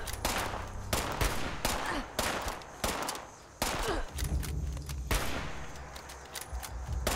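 Gunfire in Fallout 76, a string of sharp, loud shots at irregular intervals, some in quick pairs, with no one talking.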